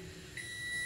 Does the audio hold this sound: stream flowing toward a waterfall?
no